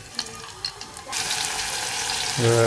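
Garlic dropped into hot oil in a Marathi village kitchen in Konkan, sparse quiet clicks giving way to a steady, close sizzle that holds to the end, with a brief voiced tone at the close.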